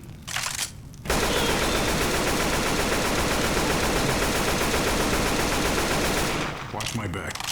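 Sustained automatic gunfire in Left 4 Dead 2, a dense continuous burst of rapid shots lasting several seconds, loud and close, with brief talk before and after.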